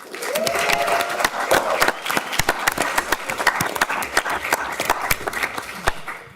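Steady applause from an audience at a school board of education meeting, dense continuous clapping with sharp individual claps standing out, lasting several seconds without pause.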